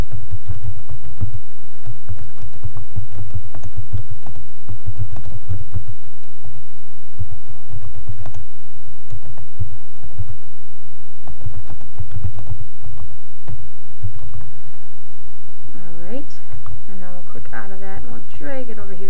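Steady clatter of keystrokes on a computer keyboard while text is typed into a Toondoo comic-making tool, close and fairly loud, with a brief burst of speech near the end.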